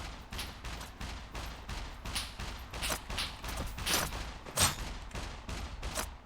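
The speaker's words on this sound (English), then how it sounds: "Stop shooting at me!" Gunfire aimed at the player in SCUM, a rapid string of fairly faint shots cracking in an irregular but steady rhythm over several seconds.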